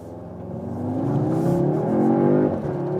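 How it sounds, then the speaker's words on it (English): A 2025 Audi S3 facelift pulls hard from a standstill out of a corner, its engine note climbing steadily in pitch and loudness as it accelerates, heard from inside the car without talk. "One more time, acceleration from standstill, but out of the corner."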